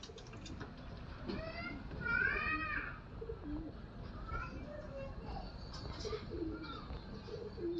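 Male competition pigeons, painted and kept for racing, coo in soft, repeated calls close by, with one fuller burst near the middle, while a person talks over a steady background rumble.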